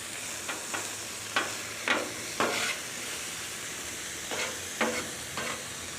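Artisan brats frying on a heavily seasoned Camp Chef 36 Gridiron griddle, a steady low sizzle punctuated by several sharper bursts of spatter and hiss as the sausages are moved around, close by with no talking.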